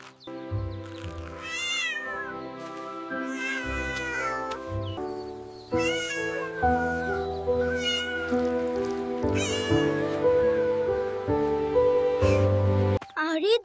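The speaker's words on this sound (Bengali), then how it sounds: "বিড়ালটা কান্না করছে। মনে হয় ওর খুব ক্ষুধা পেয়েছে।" A hungry cat meows repeatedly in long, plaintive cries, clear and close, several drawn-out calls spaced across the stretch over a soft background.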